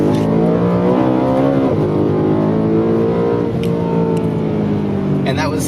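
A BMW E92 M3 engine revs hard under acceleration, its loud rising howl climbing steadily in pitch and then dropping as a shift comes, heard from inside the car alongside a talking voice.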